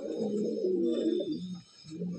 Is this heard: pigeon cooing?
yes